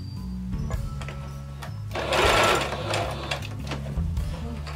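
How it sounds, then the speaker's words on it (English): A sewing machine stitches fabric for a small doll outfit, a steady mechanical whir that rises in speed to a louder dense run mid-way, then settles back to a lower hum, close and without talk. "I'm gonna stop just shy of the fabric clearing the machine, and I'm gonna lock that stitch."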